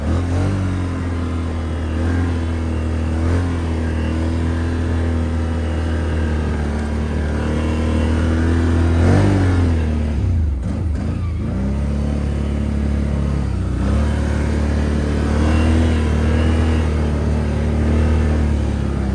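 A Can-Am Outlander 650 ATV pushes across a field of heavy, wet snow in high range, its engine droning loud and close throughout with a few revs and dips in pitch.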